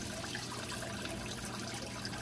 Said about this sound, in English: I'll simply replace that 5 gallons with 5 gallons of fresh water